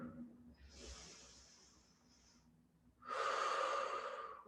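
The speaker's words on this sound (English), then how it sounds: "Take a couple of deep breaths." Deep breathing during a rest between floor exercises for the hips: a slow, soft inhale followed by a pause, then a louder, forceful exhale, close and clear with no talk over it.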